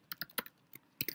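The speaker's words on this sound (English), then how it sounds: "Sorry for the keyboard noise" Quick bursts of keyboard typing, a few clustered keystrokes then a pause before another short flurry, close and fairly quiet.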